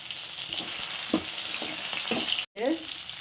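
Onions with dried red chillies fry in a pan, giving a steady close sizzle with a few scraping stirs and a brief break near the end.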